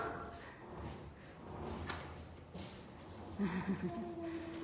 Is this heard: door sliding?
yes